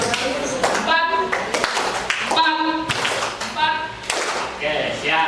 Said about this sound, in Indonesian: Tepuk tangan atau tangan ya? Nah, tepuk tangan.